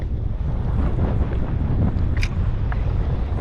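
Strong wind buffets a small fishing boat out on Moreton Bay, a loud, steady broadband roar of gusts against the microphone lasting throughout, with faint water sounds underneath and no voices.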